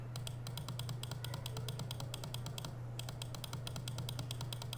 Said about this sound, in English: Oh, this is intense clicking right here.